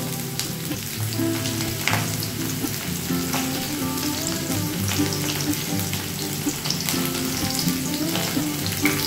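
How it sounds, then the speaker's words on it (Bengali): Pointed gourd fries in hot oil with spices and salt, giving a constant dense crackling sizzle up close with faint stirring underneath and no voices. "একটু সামান্য মশলা নুন দিয়ে দিচ্ছি যাতে না ছেটে"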